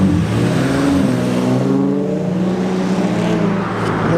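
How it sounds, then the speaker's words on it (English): Engine of a widebody 1997 Honda Civic humming steadily up close, with rising harmonic sweeps as it revs, loud and continuous with no talk over it. "this car right here, that humming over here"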